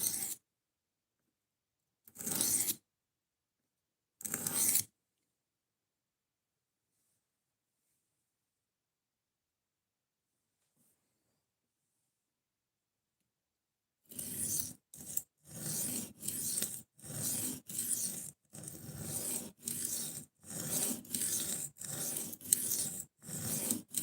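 A knife blade is drawn across a sharpening stone: a few isolated rasping strokes with long quiet gaps, then a quick, regular run of scraping passes near the microphone.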